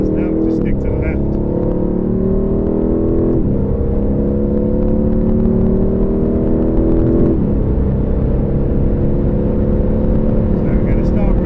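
An Aston Martin V8 Vantage accelerates hard on the Silverstone circuit, its engine note climbing steadily through the gears in a loud, continuous in-car drone with two shift breaks. Someone speaks over it.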